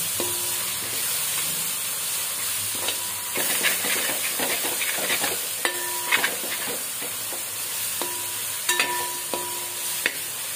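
Tomatoes sautéed in a pan for mutton varattiyathu, a steady hiss of frying broken by intermittent scraping clinks of a spoon stirring against the pan, close and continuous without speech.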